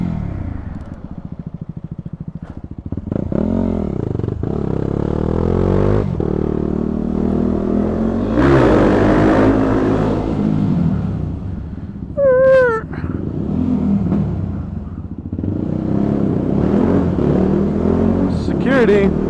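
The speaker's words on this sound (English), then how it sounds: "Part of the appeal of riding in parking garages is the sound." A motorcycle exhaust echoes through a concrete parking garage, revving up and down in several rising and falling surges that boom off the walls, with the engine close and loud and a voice talking at times.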